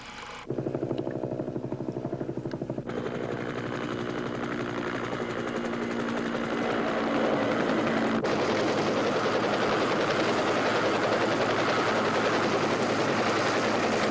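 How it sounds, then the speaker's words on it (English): A loud military helicopter in the Vietnam War, 1969, roars steadily during a medical evacuation, its rotor chopping throughout and growing heavier midway, with no speech. "a helicopter is called in to evacuate the man"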